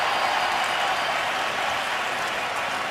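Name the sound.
crowd applauding at NFL football game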